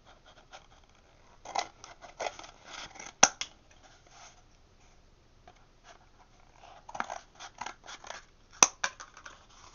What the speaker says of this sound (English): Take your paper towel tube roll or toilet rolls and cut them up into strips.